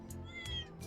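Cat meowing in the game Trails Beyond the Horizon, a few short soft mews in quick succession, faint and close.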